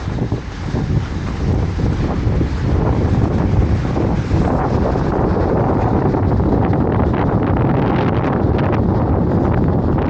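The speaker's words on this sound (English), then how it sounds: "Quite windy and even a bit rainy." Strong, steady wind buffets the microphone with loud low rumbling and gusty roar throughout, with no voices, on a trail of the Transgrancanaria race course in Gran Canaria, with a bit of rain.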